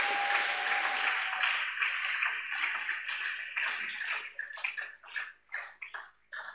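A church congregation applauds in worship, dense sustained clapping that fills the room for several seconds and then breaks into looser, uneven bursts toward the end, fairly close and with no voices standing out.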